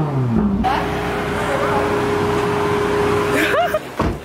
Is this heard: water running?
no